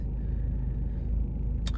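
A car rumbles with a steady low drone while driving and shaking, the interior noise constant and muffled throughout, with a brief sharp click near the end.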